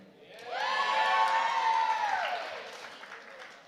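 A class of 2025 cheers at a senior awards night, a loud crowd whoop that swells for about two seconds and then fades, close and without other voices.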